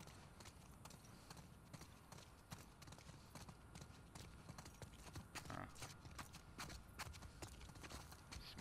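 Steady clip-clop of video game horse hooves at a trotting rhythm, fairly close, with a brief whinny partway through over a continuous background bed.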